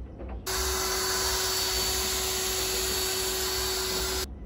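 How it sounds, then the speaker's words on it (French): A power drill fitted with a paddle mixer stirs acrylic ceiling paint in a bucket, giving one steady, loud high-pitched whir that starts abruptly, runs without a break for about four seconds, then cuts off. "on prend notre perceuse, le mélangeur"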